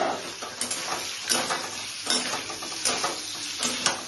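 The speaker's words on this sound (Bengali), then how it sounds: "এভাবে পনিরটাকে ফ্রাই করে নিচ্ছি" Paneer cubes frying in a pan, a loud continuous sizzle broken by rhythmic scraping strokes of a spatula stirring every half second or so, no voices.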